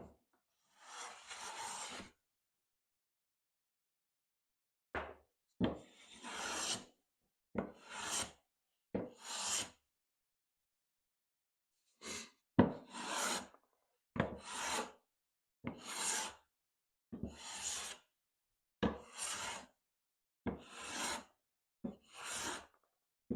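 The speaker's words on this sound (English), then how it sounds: "So I'm taking probably under 1/1000th of an inch shaving because the beech is a little harder" A jumbo 4-1/2 smoothing hand plane takes very thin shavings off hard beech wood in about a dozen close, crisp rasping strokes, evenly spaced after a brief pause.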